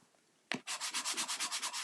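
Paper layers of a handmade greeting card are burnished by hand, a quick onset followed by about ten rhythmic rubbing strokes, close and fairly loud, with no talking.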